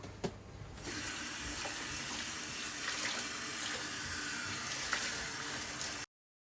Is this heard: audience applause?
no